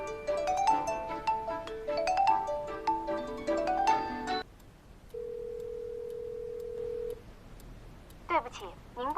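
An outgoing phone call plays a ringing melody of electronic tones for a few seconds, then a long steady beep, then a brief recorded voice as it goes unanswered.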